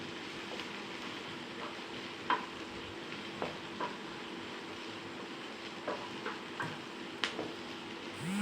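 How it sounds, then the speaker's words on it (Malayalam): Onion sautés in the pan right after vermicelli was fried for a pulao: a steady, soft sizzle with occasional light clicks and scrapes of stirring. "ഇത് മാറ്റിയിട്ട് ഇനി നമുക്കിതിൽ തന്നെ സവാള വഴറ്റാം."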